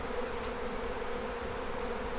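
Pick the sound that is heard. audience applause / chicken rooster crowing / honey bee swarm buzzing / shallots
honey bee swarm buzzing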